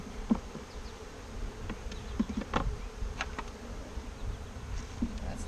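Saskatraz honey bees buzz steadily around an open hive during package installation, a close continuous hum with individual bees flying past the microphone.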